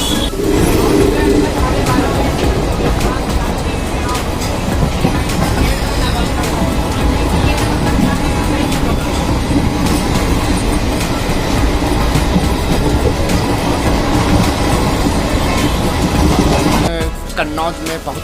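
A passenger train on the Lucknow to Jaipur route runs steadily along the track, giving a loud, continuous rumble with clickety-clack wheel rhythm that carries on unbroken and eases off near the end.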